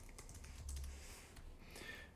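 Fingers tap steadily on a computer keyboard, a quiet, close patter of irregular keystrokes with brief clusters and pauses, alone without talk.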